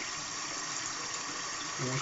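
Water runs steadily from a bathroom tap for shaving, a continuous close hiss and gush filling the sink, with a faint voice near the end.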